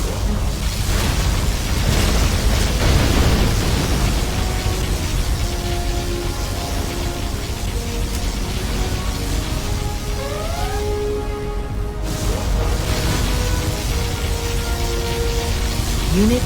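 In a Command & Conquer Generals Zero Hour battle, a USA Laser General's particle cannon fires as a long, loud, sustained roar with crackling bursts and booms, with thin whining tones sweeping through near the end.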